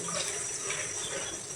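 Water runs and drains from washed chicken pieces, a short, soft steady trickle with no talk.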